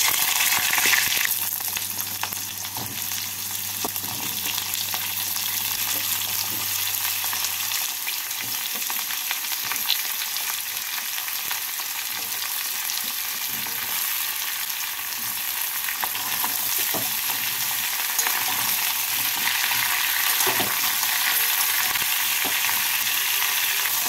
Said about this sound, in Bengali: এবার এর মধ্যে বাকি সবজিগুলোকে দিয়ে 2 মিনিট মতো ভেজে নেব।